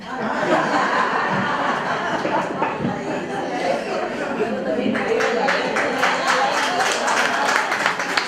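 Audience clapping at a talk at a senior citizens' centre in Vitarte, a scattered round of applause mixed with chuckles and murmured chatter, with people talking through it.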